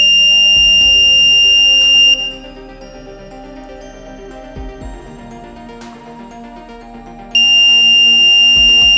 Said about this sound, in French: Lorsqu'un objet est détecté, un message s'affiche sur un écran LCD et une alerte sonore est déclenchée à l'aide d'un buzzer.